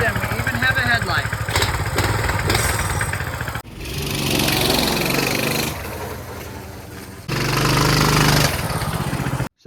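A restored minibike's small engine runs steadily, a loud buzzing putter that shifts in pitch and revs between segments, alone with no talk.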